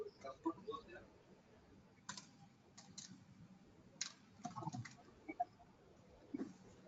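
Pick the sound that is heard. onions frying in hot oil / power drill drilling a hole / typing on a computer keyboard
typing on a computer keyboard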